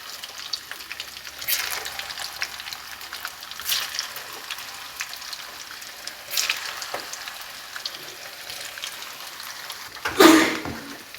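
Chicken koftas deep fry in hot oil with a soft, steady sizzle, broken by occasional louder bursts of bubbling and spoon stirring, one sharp splash or clatter near the end; no one speaks.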